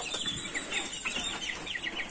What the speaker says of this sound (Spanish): Y ahí están mis pollitos comiendo.